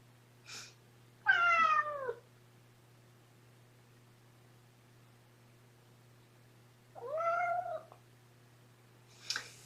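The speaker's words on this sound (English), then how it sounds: "Wow, 10 little baby kittens." Two clear, high-pitched kitten meows spaced several seconds apart, close and fairly quiet over a low steady hum, with faint brief rustles between, in the evening.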